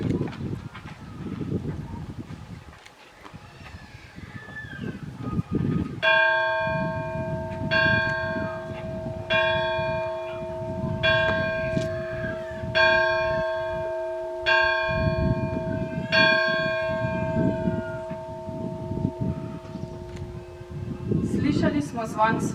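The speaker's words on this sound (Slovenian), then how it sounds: "Slišali smo zvon svetega Jošta," The church bell of St. Jošt in Šentjošt tolls in a slow, steady series of about seven evenly spaced strokes, each ringing out with a long resonant hum, over a bed of outdoor rustle and faint background voices.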